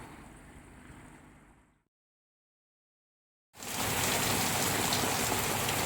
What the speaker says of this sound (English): Here's the rain and it looks like it's setting